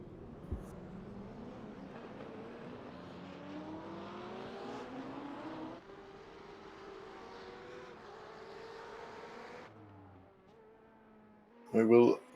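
Race cars in a sim racing game roll around a virtual Interlagos circuit in a field of GTE Ferraris, BMWs and Chevrolets, engines droning and shifting pitch steadily, then thinning out before a brief loud burst near the end.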